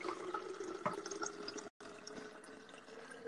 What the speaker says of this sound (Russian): Обычная водичка из-под крана.